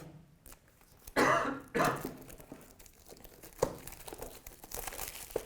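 A couple of harsh coughs close by, followed by crinkling and rustling handling noises at low volume while unboxing an OPPO A73 phone.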